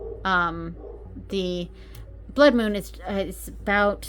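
A dog barks and yips several times in short bursts in a room, mixed with a person talking over it.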